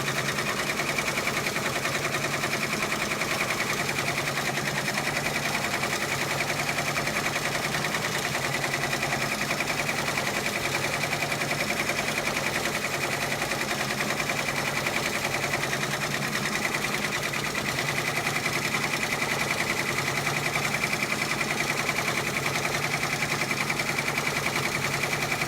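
A sewing machine stitching a pair of Converse sneakers, a continuous fast mechanical rattle that holds steady and close for the whole stretch, with no speech over it.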